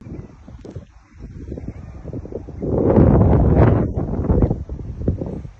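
Strong gusty storm wind buffeting the microphone in Viranşehir, Turkey, low rumbling roar that swells loudly midway and then eases, with rustling underneath.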